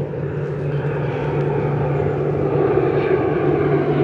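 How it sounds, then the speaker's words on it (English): ATR turboprop airliner taking off for Guernsey, a steady loud engine drone with a low propeller hum that holds throughout, without speech. "Ah, turboprop action, a little ATR, off to Guernsey."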